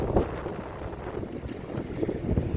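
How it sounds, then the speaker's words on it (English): Wind gusts rumble against the microphone in a constant low roar on a beach, with a faint wash of big surf waves beneath it. "It's a little windy today, you can probably hear it."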